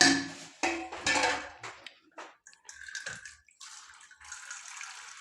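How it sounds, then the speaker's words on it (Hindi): Water drawn from a tank splashes and gushes into a cooking pot in short bursts, with gurgling pours and brief pauses between them, close by in a small room. "ये टैंकी से हम पानी लेते हैं"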